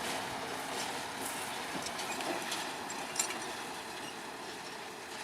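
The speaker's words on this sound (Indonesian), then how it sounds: "lokomotif D12 terus mengarah ke selatan" A D12 locomotive heading south on a sugar cane railway line near Gumuk Mas hums with a steady, moderate rumble, with faint clicks and one brief sharp knock over the continuous running noise.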